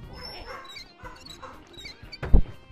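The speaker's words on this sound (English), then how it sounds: "Apologies about dogs barking." Dogs yipping and whimpering in a home, faint scattered yelps followed by a sharper, louder bark burst near the end, with a bit of background game noise.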